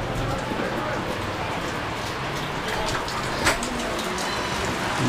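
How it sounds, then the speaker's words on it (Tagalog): Heavy rain pours steadily in a broad, even hiss that holds level throughout, with one brief clatter near the middle and a low background rumble. "Malakas ang ulan ngayon."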